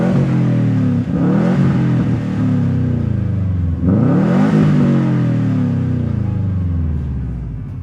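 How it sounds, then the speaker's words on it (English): A Subaru Impreza WRX/STi boxer engine revs up twice in smooth rising sweeps, a deep, close rumble climbing and settling between pulls. "This is a boxer engine which has a lovely sound to it."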